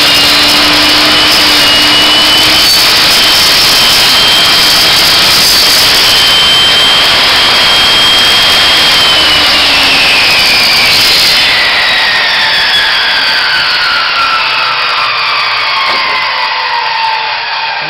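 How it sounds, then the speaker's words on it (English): A table saw runs loud and steady close by, a dense broadband roar with a high whine that shifts pitch partway through. "And turn the saw on."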